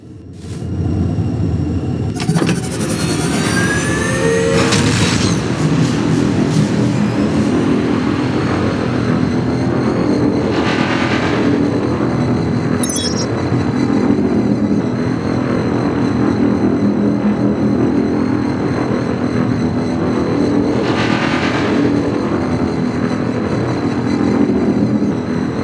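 Spaceship engine in the space game Rebel Galaxy: a steady low rumbling drone with occasional brief whooshing bursts and bright electronic chirps layered over it, loud and continuous.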